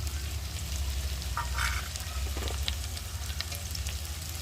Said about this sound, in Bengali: আমার আলুটা ভালোভাবে ভাজা হয়ে গেছে একটু লাল লাল করে